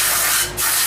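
A Seafoam intake cleaner spray can hisses into the throttle body of a Ford Ranger 2.3L, a loud close continuous spray with a brief dip midway.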